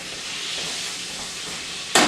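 Italian sausage browns in a pan, giving a steady, even sizzling hiss throughout, with a louder burst of spattering right at the end.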